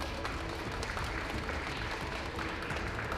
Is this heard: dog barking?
no